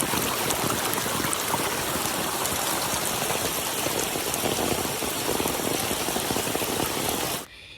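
Steady rain pours down beside a swollen river, a dense, even hiss filling the whole stretch without pause before dropping away abruptly at the very end; no voices.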